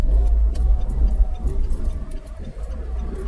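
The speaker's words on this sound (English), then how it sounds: "this is how you have to increase the engine RPM" Manual-transmission car engine idling low and steady in first gear with the clutch pressed, a deep rumble that swells slightly as RPM is raised, with faint ticking above it.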